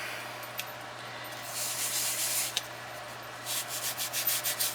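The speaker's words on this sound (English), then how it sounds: "I'm just going to rub it on this ink pad." A small rubber stamp rubbed back and forth on an ink pad, giving soft, close scratchy rubbing strokes in short bursts over a steady low hum, with a couple of light taps and no speech.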